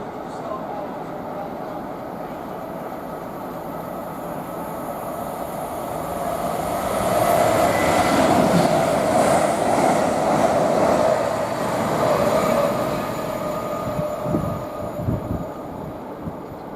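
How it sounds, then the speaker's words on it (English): An Avanti West Coast train from Chester to London Euston passes at Nuneaton on the West Coast Main Line, a swelling roar that builds, peaks and slowly fades, heard from the lineside with no talking. "the next train to pass by, we've got an Avero from Chester to London Euston"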